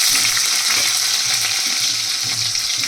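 Potatoes frying in a pan beside fried bori, pointed gourd and green banana, a steady close sizzle with a few stirring scrapes, no voices.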